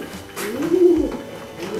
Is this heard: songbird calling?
yes